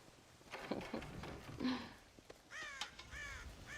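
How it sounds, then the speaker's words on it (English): Crows cawing in the Western video game Red Dead Redemption, several harsh calls in quick succession around a farm silo, fairly quiet and close, with faint background sounds between the caws. "God damn crows!"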